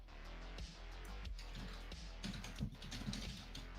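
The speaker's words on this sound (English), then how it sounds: "I'm just sitting here typing." Rapid, irregular clicks of fingers typing on a computer keyboard, close and fairly quiet, with short pauses between bursts and faint background hum, no talking.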